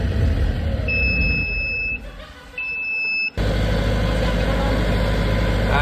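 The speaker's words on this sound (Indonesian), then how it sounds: "Ini mesin belum stabil ya karena tadi" A 40 kVA diesel generator running unevenly after refuelling from an empty tank, a loud close engine drone with two high electronic alarm beeps, a brief dip in the engine before it surges back up.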